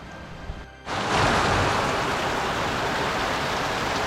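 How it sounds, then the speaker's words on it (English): Heavy, cold rain from Hurricane Ian swells in after a brief lull and becomes a loud, steady, dense roar of downpour that continues without a break. "it's actually cold rain, pretty cold"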